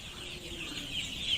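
Chicks peep in a poultry farm brooding area, partitioned pens holding many young birds; a steady, continuous chorus of thin, high chirps fills the space at moderate volume without any talking.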